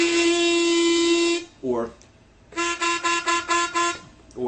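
A blues harmonica played the way a beginner would: one long held note, a wobbly bent note, then a run of short, choppy pulsed notes, close and loud.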